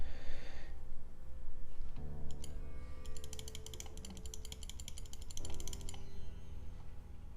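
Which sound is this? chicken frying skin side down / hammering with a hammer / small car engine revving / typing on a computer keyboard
typing on a computer keyboard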